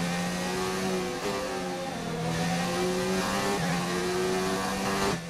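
F1 race cars in the F1 2019 racing game, a loud sustained high engine whine with shifting tones as gears change through the run, steady and without pause.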